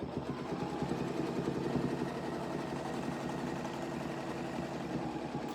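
A sewing machine stitching steadily during crosshatch quilting, a fast, even mechanical rattle running close and continuous throughout with no talking.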